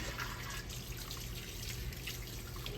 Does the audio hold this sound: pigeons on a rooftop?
no